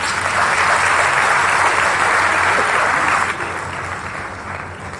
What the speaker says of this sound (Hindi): इसके लिए एक बार जोरदार तालियां।